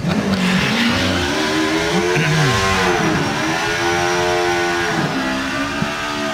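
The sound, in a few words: drag racing superbike engine shutting off at Santa Pod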